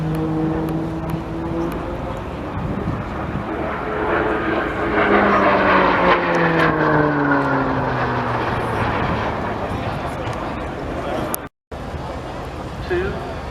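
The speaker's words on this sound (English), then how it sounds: "this time for a loop with a roll at the apex, 150 shaft horsepower, and this gives the PC9 a very potent performance indeed" A Pilatus PC-9 turboprop roars through an aerobatic loop with a roll at the apex at an air show, the engine tone rising and falling as it passes, loud and steady under an announcer's commentary.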